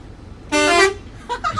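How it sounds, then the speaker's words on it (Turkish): A single loud car horn honk, sustained for about a third of a second, followed by brief quieter sounds, during a driving lesson. "Bir kornaya bas hocam da"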